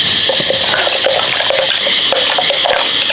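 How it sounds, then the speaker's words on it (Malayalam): Water gushes steadily as it is poured into a mixer-grinder jar to rinse out leftover ragi dosa batter, a continuous close splashing with brief louder bursts. "ഇപ്പം ജാറിൻ്റെ അകത്തുള്ളതും കൂടെ നമുക്ക് അല്പം വെള്ളം ഒഴിച്ചിട്ട്"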